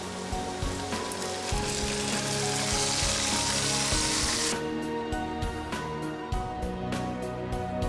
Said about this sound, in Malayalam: ഈ ഉള്ളി മൂത്ത് വരുമ്പോഴേക്ക് മാരിനേറ്റ് ചെയ്ത ചിക്കൻ ഇതിലേക്ക് ഇടാം